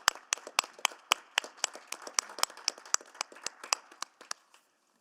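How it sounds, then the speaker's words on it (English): Sparse applause at a city council meeting, a small group clapping in uneven, separate claps that taper off after a few seconds. "just a round of applause"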